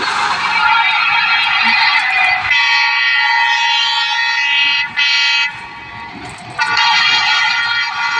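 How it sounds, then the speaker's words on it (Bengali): A train passing a railway level crossing sounds a loud, sustained horn close by, with brief breaks and shifts in tone over the rushing noise of the passing cars. "রেল গেটের কাছে দাঁড়িয়ে ট্রেন পেরিয়ে চলেছে"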